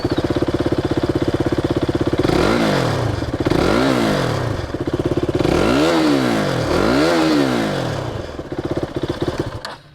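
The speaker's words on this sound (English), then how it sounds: "Let's hear the exhaust note of all the 3 generation of KTM Dukes" First-generation KTM Duke motorcycle revved repeatedly from idle, loud and close, with a chugging single-cylinder exhaust that rises in several sharp throttle blips and falls back to idle.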